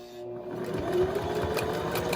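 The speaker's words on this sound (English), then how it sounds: "I'm going to use this edge here and keep it lined up as I come down and sew" A sewing machine runs steadily as it stitches a fabric shopping tote, a continuous close mechanical whir with a rapid needle rhythm holding for about two seconds with no talk.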